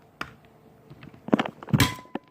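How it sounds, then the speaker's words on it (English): An SKS rifle part is pressed into an EBR chassis, giving a few close, faint mechanical knocks and then a sharper metallic click and clatter as it seats. "Bang, so you hear it click."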